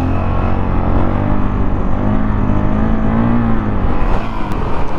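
A 2019 Honda CRF 450L dirt bike rides steadily in third gear, its engine droning in an even, continuous hum close to the rider with slight pitch shifts and wind noise, no speech.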